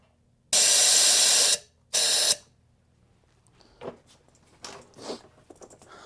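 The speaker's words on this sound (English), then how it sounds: "how is he spraying that out using compressed air" Two loud bursts of compressed air hissing into the spark plug area of a Chrysler Pentastar 3.6L engine, one long and one shorter, followed by faint scattered clicks and rustles nearby.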